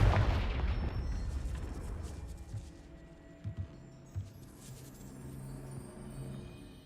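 A Confringo blasting spell explodes in the video game Hogwarts Legacy, a loud low boom at the start that rumbles and decays over several seconds, with a few smaller thuds and bursts following.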